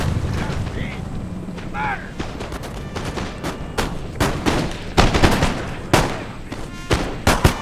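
Musket lines fire ragged volleys on a Syrian Ridge battlefield in Napoleon Total War multiplayer, sharp cracks and scattered shots popping repeatedly amid distant rumble, with a voice briefly heard early on.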